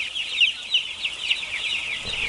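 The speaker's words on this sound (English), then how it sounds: "The chicks are boxed in crates and then dumped in long warehouses with tens of thousands of other chicks." Broiler chicks packed by the tens of thousands into a long warehouse, making a dense, continuous chorus of high peeping that rises and falls steadily, with no voices.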